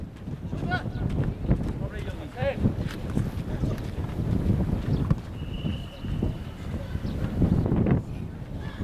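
Wind buffets the microphone at an outdoor veterans' football match, a constant low rumbling roar under the talk of nearby people.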